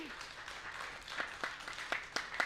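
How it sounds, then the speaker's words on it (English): A small audience at a live Beethoven cello music event gives faint applause, sparse individual claps that grow a little louder toward the end. "please, a warm virtual White Horse Live round of applause for the man of few words, Dr. Daniel Weiser."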